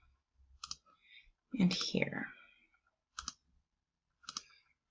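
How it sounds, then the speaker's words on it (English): A computer mouse clicks in short, crisp bursts, a few separate clicks spaced out across the moment, close and distinct, with a person speaking briefly between them. "I'm just clicking on the header of these columns"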